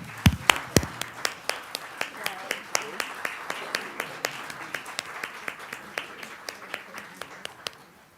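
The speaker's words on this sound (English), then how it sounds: "Can we please give them a round of applause?" Board of education meeting audience giving board members a round of applause, a steady run of sharp, regular claps over faint room background and murmuring voices.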